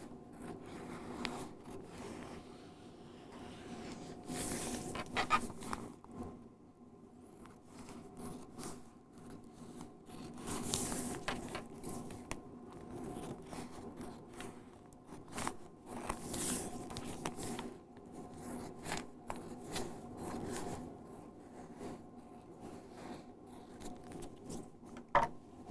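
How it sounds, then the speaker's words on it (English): Quiet snipping and crinkling of scissors through thin tissue paper, in irregular bursts with brief louder strokes, close by and without talk. "I have my students take their scissors and do their own trimming."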